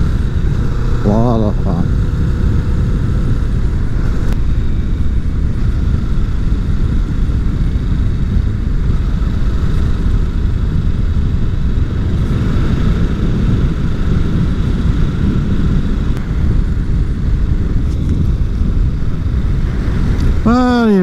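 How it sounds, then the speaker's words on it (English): A 2020 Kawasaki Vulcan S motorcycle being ridden, its engine and wind making a steady, loud rumbling roar that continues without a break while a rider speaks over it. "Riding the Vulcan S,"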